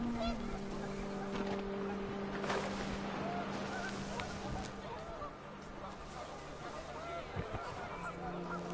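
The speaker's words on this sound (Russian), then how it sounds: "panicked geese appeared and quickly went" Panicked geese honk in the video game What Remains of Edith Finch, with repeated goose calls over a steady outdoor backdrop of wind and low rumble while a voice speaks.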